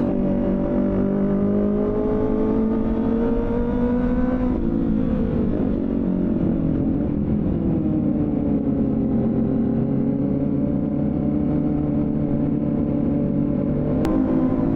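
Kawasaki Ninja ZX25R four-cylinder motorcycle engine held at high rpm while riding, a loud steady whine that dips and climbs with throttle changes, running continuously without talk.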